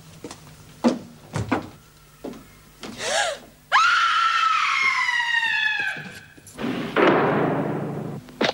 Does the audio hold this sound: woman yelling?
yes